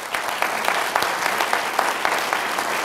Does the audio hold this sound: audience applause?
yes